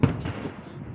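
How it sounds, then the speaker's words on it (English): Fourth of July fireworks going off outdoors, a sharp burst at the start followed by a rumbling, crackling decay over about a second, moderately loud and fairly close. "Why do other people scream when cool fireworks go off?"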